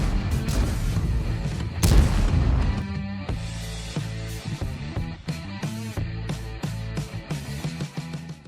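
A heavy 110mm high-power cannon on the Concept 1B tank fires in a video game, a loud booming blast near the start that rolls off into rumble, followed by clattering mechanical reload and impact noises.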